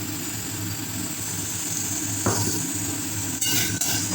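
Chopped tomato goes into a sizzling pan for a rohu posto fish dish, a steady frying hiss with a brief louder burst as the pieces drop in, then a couple of clatters.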